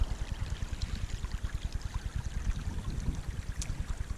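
Water runs steadily through a small backyard stream built for RC crawlers in a winter setting, a close, continuous rushing trickle with a pulsing low churn and no voices.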